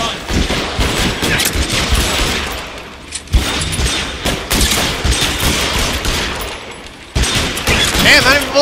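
Gunfire in the video game L.A. Noire, dense rapid volleys of shots and bursts sustained over several seconds, loud and close, broken by short gaps, with a player's voice talking over it at times.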